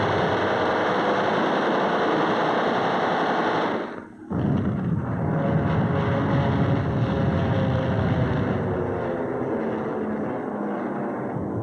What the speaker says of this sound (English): Planes from our carrier force take off to strafe and bomb.